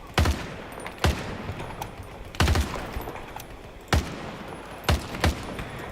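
Sharp, well-spaced single gunshots from Battlefield 2042 with a reality mod, about six loud close cracks each trailing into a brief echoing tail, no voices.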